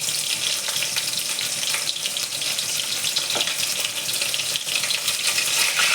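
Water runs and drips as Bombay duck fish is squeezed by hand, a steady close hiss of trickling liquid with small wet splashes throughout, no talking.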